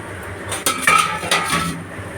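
A lid lifted off a cooking pot while fish cooks wrapped in banana leaf, giving a bright metallic clatter and clink, then a second scrape and knock, over a faint background hiss with no talking.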